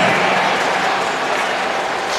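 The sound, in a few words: audience practicing a single clap at swimming championship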